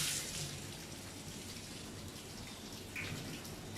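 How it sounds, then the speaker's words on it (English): Hands being washed under a running kitchen tap during cooking, a steady soft hiss of flowing water with slight splashing changes, close and fairly quiet throughout. "I'm going to wash my hands."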